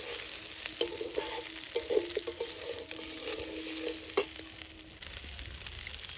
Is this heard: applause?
no